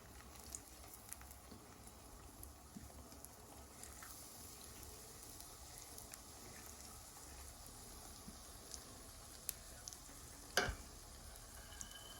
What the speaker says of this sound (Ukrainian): Пробний млинець будемо смажити.